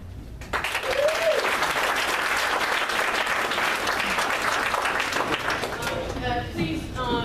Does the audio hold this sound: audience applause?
yes